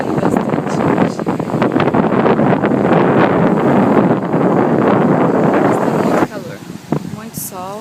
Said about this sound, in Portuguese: Ventando bastante hoje.